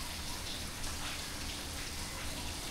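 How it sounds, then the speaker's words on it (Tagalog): Steady rain pours down in a dense, continuous hiss of drops striking surfaces, loud and close throughout with no pauses, a heavy downpour that holds at full strength. "Mas lalo yatang lumakas yung ulan, Mars."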